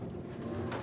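Pigeons cooing in the video game Detroit: Become Human, a low, soft, continuous murmur of birds close by.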